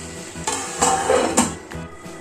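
A metal lid knocks and clanks onto a pan of softening tomatoes for a Kerala-style prawn roast, with a few sharp contacts over a faint sizzle.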